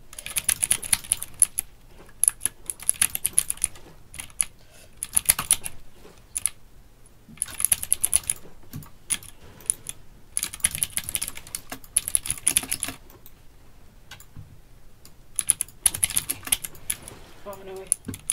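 A Royal Kludge RK61 clicky mechanical keyboard is typed on up close in rapid bursts of sharp clicks, with short pauses between flurries.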